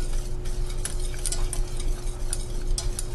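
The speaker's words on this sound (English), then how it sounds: "The whisk is starting to leave trail marks in it." A whisk stirs thickening cream of broccoli soup in a pot, giving a steady close scraping and stirring under a low hum, with light metallic ticks against the pan now and then.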